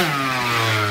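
A scooter engine just started from cold with an empty carburetor, revving in a close, loud, steady buzzing tone that rises slightly in pitch over a brief second.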